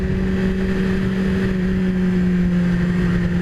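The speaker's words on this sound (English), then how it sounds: "feel that engine brakes" 2017 Yamaha R6 motorcycle engine braking in third gear, a loud, steady engine drone with a strong low hum and constant wind roar throughout.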